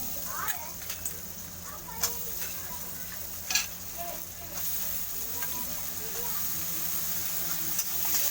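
Diced potatoes frying in oil with onions, salt and turmeric, a continuous close sizzle broken by a few sharp scrapes and clacks of a stirring spatula, with soft background sounds and no clear talk.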